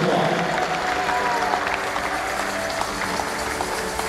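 A church congregation applauds during a blessing service, producing a steady wash of dense clapping that lasts throughout, with voices talking over it.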